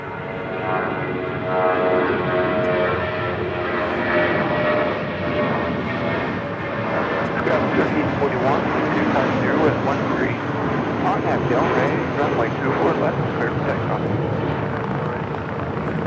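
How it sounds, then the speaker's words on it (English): A ten-year-old JetBlue Airways Airbus A320 departs for Seattle with a steady, loud roar of jet engines that swells and holds, while people talk over it. "That is Blue Yorker departing to Seattle, JetBlue Airways 806 on a 10-year-old A320."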